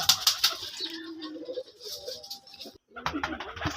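Soft, low pigeon cooing rises and falls amid chirpy bird calls and scattered rustling, fairly close, with a short pause near the end; white pigeons.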